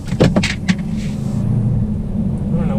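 A 2020 Hyundai Sonata sedan pulling out into traffic and accelerating, heard from inside as a low, building engine and road rumble, with a few short clicks and knocks early on and no talking.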